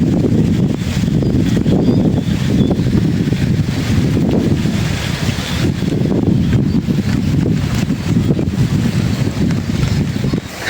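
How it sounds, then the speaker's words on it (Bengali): Strong wind blowing outdoors past a lychee tree and mango trees, loud and steady gusting roar buffeting the microphone, continuous with no talk. "এত বাতাস বইতেছে"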